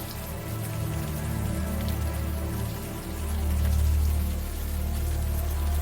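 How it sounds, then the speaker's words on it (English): Warm rain pours steadily in the point-and-click adventure game Unavowed, a dense, continuous wash with a low rumble that swells slightly midway, with no voices over it. "the warm rain is coming down"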